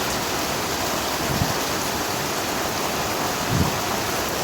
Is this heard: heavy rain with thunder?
yes